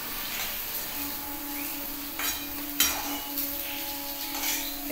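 An egg fries lightly in oil in a wok, giving a steady low sizzle and hiss, with a few sharp clinks of a utensil against the pan partway through.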